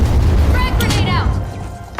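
A frag grenade goes off in The Finals with a deep, thick boom that lingers and fades over two seconds while a voice talks over it.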